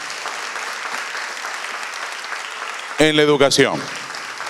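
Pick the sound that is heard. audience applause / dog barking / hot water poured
audience applause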